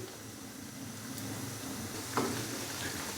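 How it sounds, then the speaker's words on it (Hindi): Ginger garlic paste frying in a pan of oil for a white chicken biryani, a steady soft sizzle throughout with one brief louder burst of stirring partway through. "अदरक और लहसुन के पेस्ट को हल्का सा फ्राई कर लेंगे ताकि इसका कच्चापन ख़त्म हो जाए।"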